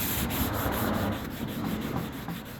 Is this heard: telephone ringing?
no